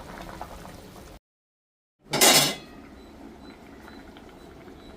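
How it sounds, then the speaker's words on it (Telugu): Andhra-style bommidaila pulusu, a fish stew, bubbles in a pot with a faint, steady simmering hiss, broken by a brief dead silence and then a short, louder surge of bubbling before settling back to a soft boil. "పులుసు బాగా ఉడుకుతుంది కదండి"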